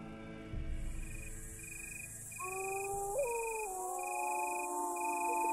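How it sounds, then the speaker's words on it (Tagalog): Several dogs howl across a village at night, long rising and wavering howls overlapping and joining in after a couple of seconds, over a steady shrill chorus of crickets and insects. "maririnig ang malalakas na alulong ng mga aso sa buong baryo"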